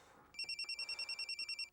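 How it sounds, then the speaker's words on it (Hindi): A telephone rings with a rapid electronic trill, a fast run of evenly pulsed tones that is steady and moderately clear over a quiet room background. "घंटी एक मिनट फ़ोन बंद कर दें प्लीज़।"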